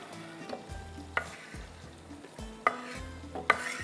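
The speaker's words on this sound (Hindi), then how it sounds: "प्याज हमने डाल दी" Onions dropped into hot oil and stirred in a pan for a chicken masala, giving a soft sizzle under scraping spoon strokes with a few sharp clinks.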